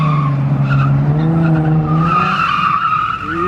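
Car tires squeal in a sustained, loud skid during a burnout in a parking lot, a steady wailing screech that wavers in pitch and fades slightly at the end.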